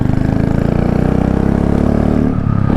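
Royal Enfield Classic 350 motorcycle with an aftermarket sport exhaust, running in traffic with a steady, loud, throbbing engine note that holds close and continuous throughout, with no talk.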